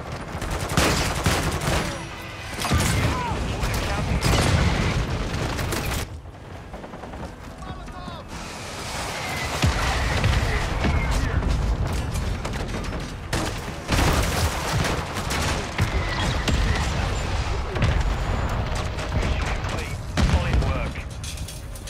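Modern Warfare 2 battle with cluster mine and mortar strike explosions: dense bursts of blasts and rattling gunfire come in waves, broken by short lulls, with voices talking over the barrage.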